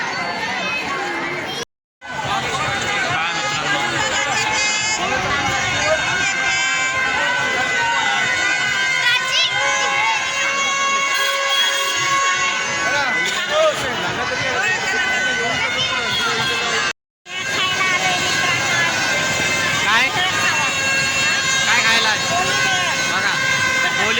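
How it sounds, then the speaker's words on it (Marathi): A packed village fair (jatra) crowd creates a dense, continuous din of overlapping voices and loud festive tones, with two brief dropouts to silence partway through. "इतकी गर्दी आहे खूपच गर्दी आहे"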